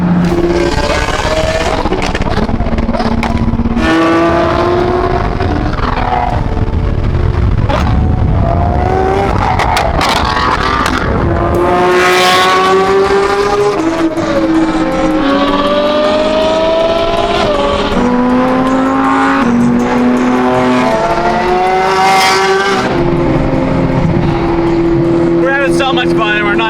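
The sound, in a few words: Ferrari car engine revving and accelerating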